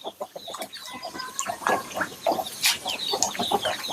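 Chickens cluck and peck busily at a fish pond while fish feed is scattered, with many overlapping short calls close by and a faint splashing undertone, and no talk.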